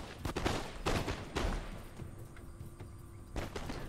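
Rolling musket platoon fire from ranks of line infantry in Total War: Empire, several ragged bursts of overlapping shots crackling in quick succession, with quieter gaps and distant battle rumble between volleys.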